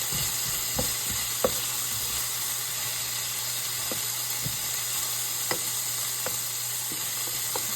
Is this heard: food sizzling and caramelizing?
yes